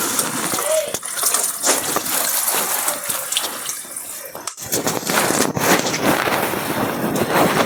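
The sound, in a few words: water flowing at Srisailam shrine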